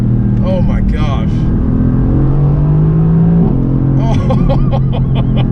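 A 760-horsepower RENNtech-tuned Mercedes-AMG GT S with a dual-clutch transmission accelerates hard, its deep engine rumble climbing steadily through a quick shift. People talk over it from inside the cabin.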